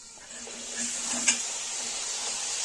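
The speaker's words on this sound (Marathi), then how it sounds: "तेलामध्ये जे आहे पापड तळून घेणार आहोत" Papad frying in hot oil in a kadhai, a faint steady sizzling hiss with a soft clink or tap partway through, no voices.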